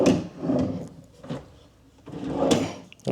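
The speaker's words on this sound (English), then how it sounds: "Okay, just 2 extra drawers." Hotel room drawers are pulled open and pushed shut three times in a row, each a close, woody sliding scrape with a soft thump, separated by short quiet gaps.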